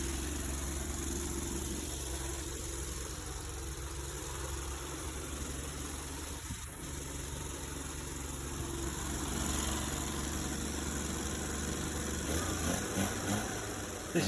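A red Mk3 Cooper S recreation classic Mini engine runs for the first time in a long while, idling unevenly around 2000 rpm with a steady close drone and a slight rise toward the end, no talking.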